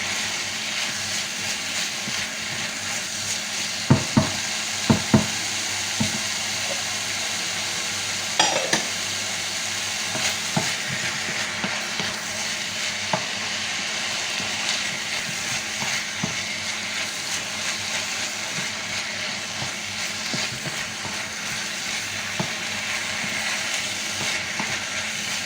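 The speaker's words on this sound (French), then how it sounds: "Et on va laisser mijoter comme ça. Le temps que les tomates réduisent." Tomato sauce for stuffed cannelloni simmers in a pan, a steady soft bubbling sizzle throughout, broken by a few sharp clicks and utensil taps early on.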